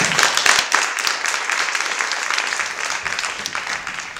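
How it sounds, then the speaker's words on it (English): Applause from an audience at a theatre lecture on art, dance and political intervention, a sustained wash of many hands clapping at steady volume that eases slightly toward the end. "Eva Fotiadi, Margaret Tali, and Thijs Witty, I would like to start this day with a big round of applause for them"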